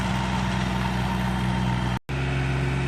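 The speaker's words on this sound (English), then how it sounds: "We just do that with our tractor." A tractor engine drones steadily while laying off garden rows, a low mid-pitched hum with a very short dropout, with no talking.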